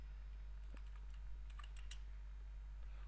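Typing on a computer keyboard while entering HTML text, a scattered run of light key clicks in small bursts, faint and close over a steady low hum.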